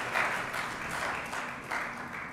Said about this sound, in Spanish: Denle un aplauso a Jesús si usted cree que Él está aquí en medio nuestro.